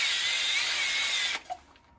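An electric drill spins a sanding arbor against the bottom of a wooden bowl, giving a loud, steady high-pitched whir that cuts off abruptly, followed by a brief clunk and quiet.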